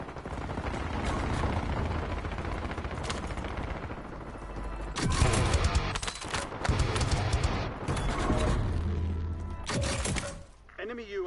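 Turret gunfire rattles in long, heavy bursts in Call of Duty Warzone on Rebirth Island during Resurgence, close and dense, with mechanical clatter between volleys and voices speaking over the shooting.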